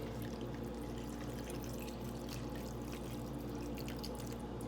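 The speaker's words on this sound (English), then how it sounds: "I'm going to take water and I'm going to fill it to the line." Water pours steadily into a ramen noodle cup to fill it to the line, a continuous close splashing and trickling with no talking.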